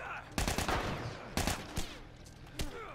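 Gunfire during a human gunfight in The Last of Us: a few sharp, loud bursts separated by short quiet stretches, with a voice talking faintly underneath.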